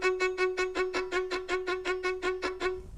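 A bowed string instrument plays evenly repeated sixteenth notes on one sustained pitch, about fifteen pulsing strokes in steady rhythm, clear and moderately quiet.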